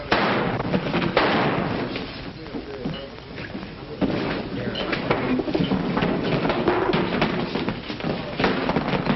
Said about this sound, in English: The shots came from the back door.